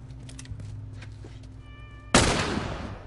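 A single loud gunshot from The Last of Us video game bursts out near the end, following quieter game sounds and a short tonal chime.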